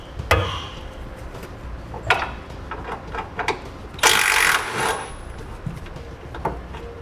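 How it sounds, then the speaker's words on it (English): Ratchet and metal clicks while a 13mm bolt is removed from a parking brake cable bracket on the driver's side frame of a 2017 Chevrolet truck; scattered close taps and clacks, with a louder rattling burst near the middle. "We're going to remove this 13mm bolt."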